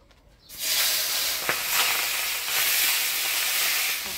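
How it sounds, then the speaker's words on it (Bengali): Tengra fish drop into a pan and fry with a sudden loud sizzle that keeps up as a steady, close hiss. "এবার মাছগুলো ভেজে নিব।"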